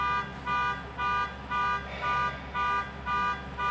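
A car alarm sounds in steady repeated beeps, roughly seven evenly spaced pulses with short gaps between them, loud and continuous with no voices.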